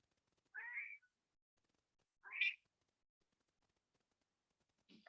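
A cat meows twice, each call short and clear with a quiet pause between, followed by the start of a third sound cut off at the end, against near silence.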